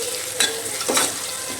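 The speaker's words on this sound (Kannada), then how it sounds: "ಸೊ ಇವಾಗ ಇದನ್ನು ಫ್ರೈ ಮಾಡ್ಕೊಂಡಾದ್ಮೇಲೆ ಟೊಮೆಟೊ ಹಾಕೋಬೇಕು." Onions fry in a pan for tomato rice with a steady, close sizzle, and two quick scraping stirs cut across it. Nobody speaks.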